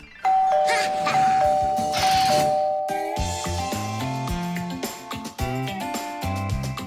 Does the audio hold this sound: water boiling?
no